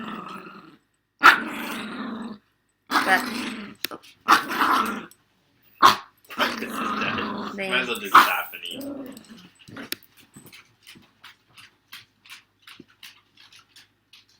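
Dogs growl and bark in a house, with people talking over them in the first part, then a run of short, separate barks and yips continues alone toward the end.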